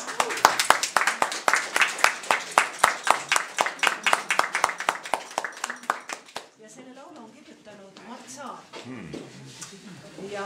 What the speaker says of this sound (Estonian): Aga teeme aplausi vahel.